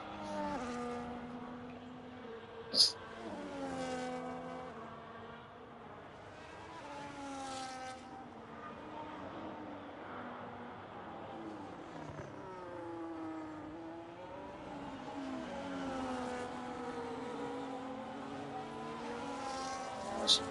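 Racing car in a racing video game accelerating down a long straight on a China track, a steady whining engine tone rising through the gears with repeated upshift sweeps, continuous and fairly close.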